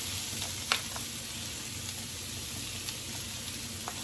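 Peppers and onions sautéing in garlic butter give a steady, soft sizzle throughout, with a few faint clicks and stirring taps on top, at low volume and with no talking.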